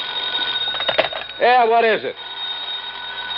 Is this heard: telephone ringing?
yes